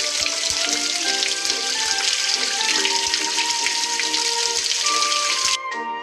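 Water splashes and trickles steadily in a Paw Patrol game as a puppy's paws are rinsed, a bright continuous wash with chiming electronic tones layered on top before a brief drop near the end.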